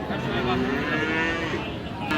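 Cattle moo with long, low drawn-out calls at a busy rural cattle market (haat) selling local bulls, set against a constant dense crowd murmur.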